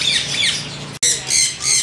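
A sun conure parrot at a bird market gives loud, shrill squawks, several harsh calls close by with a brief gap in the middle.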